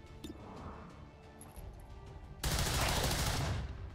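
Soldiers shooting in the XCOM 2 video game, a sudden loud burst of rapid gunfire crashing in halfway through and sustaining to the end after quieter game sounds.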